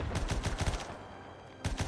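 A World War One gun in the video game Between Empires fires in rapid bursts of loud cracks, a quick volley, a brief pause with a lingering tail, then another burst.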